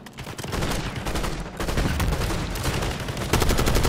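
Gunfire in the shooter video game Call of Duty, with rapid bursts of sharp, close shots rattling in quick rhythm, pausing briefly, then resuming loudly with no talking.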